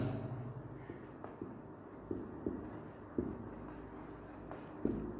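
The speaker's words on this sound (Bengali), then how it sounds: "আমি 3 ধরনের বাক্য লিখে দিচ্ছি" Sentences are written on a board with quiet, scratchy strokes and soft taps at irregular intervals, low in level, over a faint murmuring background.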